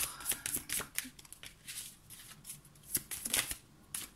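Tarot cards drawn and handled during a reading, with quick papery shuffles, slides and light flicks in irregular bursts, close and fairly soft, without talking.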